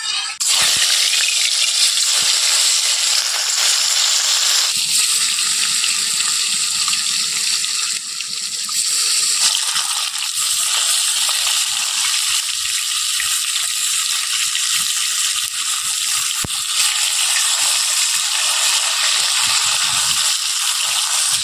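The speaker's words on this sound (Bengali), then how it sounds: "মাছ কিন্তু ভালোভাবে কড়া করে একটু ভেজে নেব।" Snakehead (shol) fish frying in hot mustard oil in a kadai, a steady loud broadband sizzle that carries on without a break, with brief clinks near the start and partway through.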